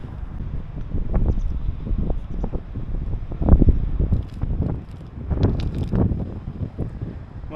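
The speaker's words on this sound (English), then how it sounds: "It's very windy." Strong coastal wind in Hokkaido buffets the microphone while cycling, loud gusting rumble rising and falling in uneven bursts throughout, with no talk.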